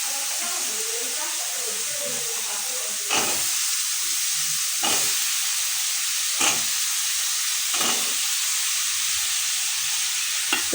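Cut papaya and potato dropping into spice paste in a hot pan, giving a steady loud sizzle and hiss throughout with occasional stirring scrapes, close up.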